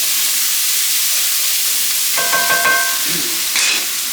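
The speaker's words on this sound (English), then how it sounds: "Stir up the vegetables." Vegetables sizzle and hiss steadily in a hot pan, with a brief metallic scrape and rattle of stirring partway through over the constant frying noise.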